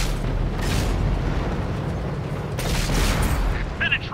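A tank cannon fires in the World of Tanks video game, a heavy booming blast with a rumbling tail and game-effect noise.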